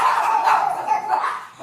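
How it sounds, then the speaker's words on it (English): Neighborhood dogs bark and yip in a quick run of sharp, fairly close barks lasting under two seconds. "I know the neighborhood dogs are barking"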